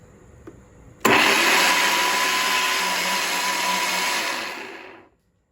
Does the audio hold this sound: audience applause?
no